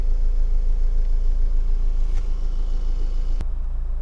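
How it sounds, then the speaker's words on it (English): A Honda Civic 2.2 i-DTEC diesel hatchback idles steadily throughout, a close, even low rumble with a faint brief tick near the end and no talking. "engine's running as it has been all the way through"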